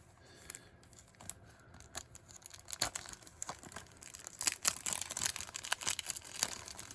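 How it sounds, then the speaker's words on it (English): Tape being cut and peeled off the packaging of a die-cast Pagani model car, with close crinkling, tearing and snipping sounds that grow busier toward the end, no voices. "We'll get this tape cut off of here."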